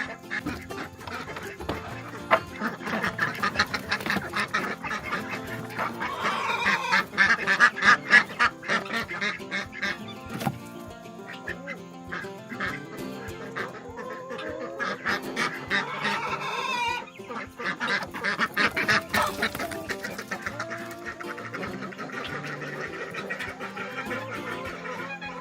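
Guinea fowl on a homestead call out in a loud, repeated series of harsh squawking cries, rising in bursts across the span with other poultry noise mixed in.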